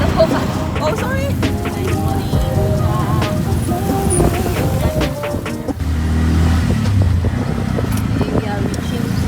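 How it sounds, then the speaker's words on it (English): A tuk-tuk ride through Phnom Penh streets: a steady motor rumble and road noise carry throughout, with sharp traffic sounds and faint background voices mixed in. "We are taking the tuk-tuk to the beginning queue."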